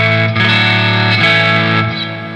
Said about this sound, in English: the effects, now that distortion is coming straight from the guitar